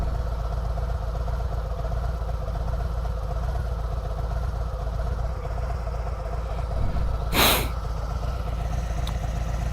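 A motorcycle engine idles close by with a steady, even low rumble, and a brief burst of noise cuts in near the end.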